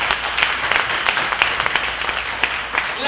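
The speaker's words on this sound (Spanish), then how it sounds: "Denle un aplauso bien fuerte al Señor." Church congregation clapping loudly for the Lord, dense rapid applause with sharp claps standing out, close and continuous.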